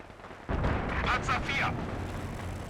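Mortar pit firing in Company of Heroes 2 gives a sudden muffled boom followed by a few rumbling, echoing blasts that decay into a sustained low roar, fairly loud and close.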